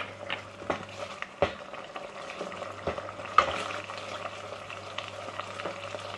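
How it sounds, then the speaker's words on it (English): Thai massaman curry paste with a little palm sugar stir-fried over low heat in a pan, with a soft steady sizzle, a low hum underneath and several sharp scrapes and taps of the spatula against the pan. "I'm also gonna add palm sugar, just a little bit, to stir fry with the curry"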